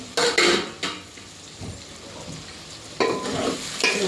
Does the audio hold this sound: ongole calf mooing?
no